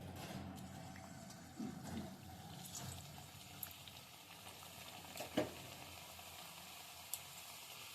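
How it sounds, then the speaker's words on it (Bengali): Mung dal puli pitha dumplings fry in hot oil with a steady, close sizzle and a few sharp pops and crackles throughout. "এবার আমি ভাজার জন্য তেলে দিয়ে দিচ্ছি"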